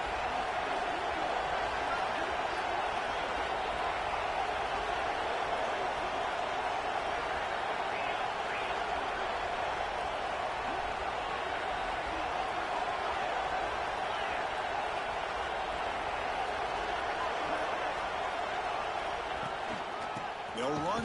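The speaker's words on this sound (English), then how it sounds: "And here comes the noise. This crowd is trying to inspire this defense to make a big red zone stop." Crowd noise at a Purdue versus Indiana football stadium during a red zone defensive stand: a steady, dense roar of many voices that holds throughout, with a commentator speaking over it.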